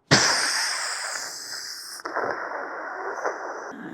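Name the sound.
voice imitating a pressure cooker whistle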